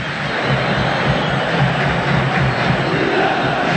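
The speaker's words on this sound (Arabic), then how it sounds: "استيقاظ ديال الجماهير" Roaring football crowd at a Wydad Casablanca home match against Kawkab Marrakech, a dense, steady wall of massed fan noise filling the stadium with no break.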